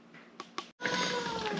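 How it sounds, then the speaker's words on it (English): A pet cat indoors in a home kitchen gives two short chirps, then after a brief pause a drawn-out, fairly loud meow, pleading to be let outside. "That's my cat. She wants to go outside"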